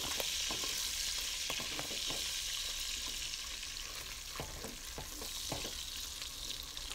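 Pork frying in a pan as its fat renders out for ginataang laing, a dense close sizzle with scattered pops and crackles holding steady throughout, no voices.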